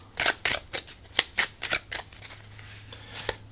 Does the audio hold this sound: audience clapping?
no